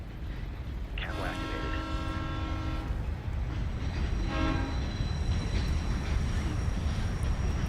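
Train at a station in the video game Ghost Recon Future Soldier, with two horn blasts of a couple of seconds each sounding over a steady rumbling rail background.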